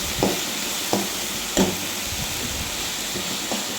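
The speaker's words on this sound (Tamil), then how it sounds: "பீன்ஸை நல்லா கிண்டி விடுங்க." Green beans fry in a pan with a constant close sizzle, broken by a few distinct scraping thumps as a spatula stirs them at irregular intervals.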